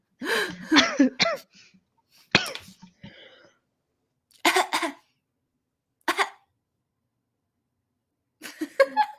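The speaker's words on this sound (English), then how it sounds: "I'm like over here genuinely coughing." Several bouts of coughing, harsh and close, separated by silent pauses, with some throat clearing between them.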